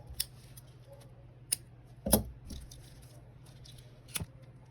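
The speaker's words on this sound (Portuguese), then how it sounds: "a gente pode vir aqui, cortar o fio aqui" Scissors snip through crochet yarn in several sharp, quiet clicks spread across a few seconds, one louder cut in the middle, against a faint low hum.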